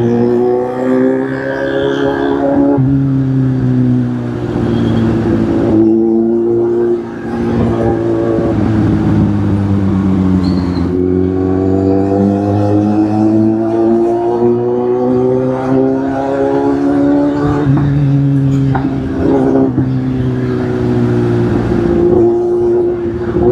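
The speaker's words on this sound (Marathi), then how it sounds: "गाडीचा आवाज वाढला" A car engine rises and falls in pitch as the vehicle accelerates and shifts through gears on the road, a close, steady hum with repeated climbing whines and no speech.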